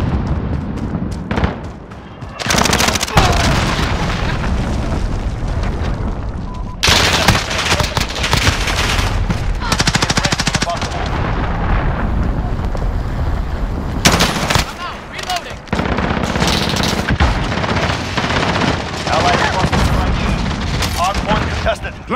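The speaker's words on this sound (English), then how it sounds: "Enemy cruise missile." Call of Duty Modern Warfare gameplay during an enemy cruise missile strike, dense and loud with nonstop machine-gun fire and heavy booming blasts across most of the stretch, brief lulls between, and spoken callouts mixed in.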